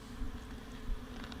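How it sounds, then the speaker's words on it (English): Honey bees hum from an opened beehive as a frame is lifted out, a low, steady drone with no voices over it. "that's a lot of bees"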